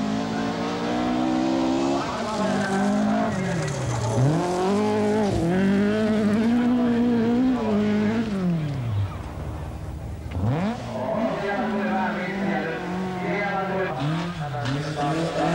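Rally cars race flat out on gravel stages at the 1981 Jyväskylä rally in Finland, with Markku Alen among the drivers. Engines rev loudly and steadily, pitch swooping through gear changes, with tire noise and a commentator speaking over the whole run.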